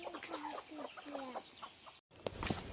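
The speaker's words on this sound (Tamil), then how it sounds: "சேவல் அந்த கோழி எல்லாம் வந்துடுச்சு." Roosters and hens cluck and cackle close by in a run of rising, stuttering calls, then there is a short break and a burst of rustling and scuffling noise.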